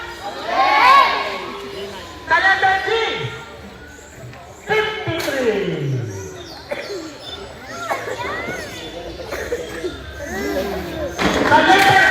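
A crowd at a bingo game in Mindoro shouts and cheers in loud bursts, with children's voices and excited calls rising and falling across the scene.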